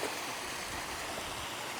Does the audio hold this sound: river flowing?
yes